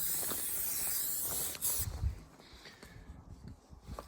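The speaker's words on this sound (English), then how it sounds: "So I'll spray this on like this." A steady spray hiss as cleaner is sprayed onto a satin-finish motorcycle runs for about a second and a half, then stops, followed by a few soft handling sounds.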